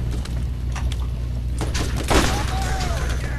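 Gunfire in the video game Borderlands, a busy stream of shots with a louder burst near the middle, running under continuous game noise while players talk over it.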